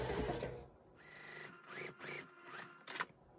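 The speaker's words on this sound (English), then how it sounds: "I'll sew the 1/4 inch seam down this way" A sewing machine stitches a quarter-inch quilt seam in short, close bursts of whirring needle action, separated by brief pauses and a few small handling clicks.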